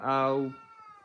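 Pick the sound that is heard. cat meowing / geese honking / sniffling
cat meowing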